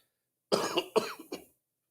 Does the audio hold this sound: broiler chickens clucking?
no